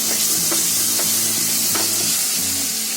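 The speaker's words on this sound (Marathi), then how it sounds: "याला बोलतात तेल बाजूला येईपर्यंत फ्राय करायचा." Masala gravy fries in oil with a loud, continuous close sizzle. Soft stirring strokes come every half second or so, and a low mechanical hum runs underneath.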